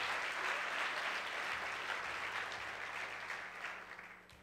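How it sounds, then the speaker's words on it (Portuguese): A church congregation at a Sunday service applauds, a full wash of clapping that starts strong and gradually fades toward the end, fairly distant and quiet overall. "Dá um aplauso ao Senhor aí"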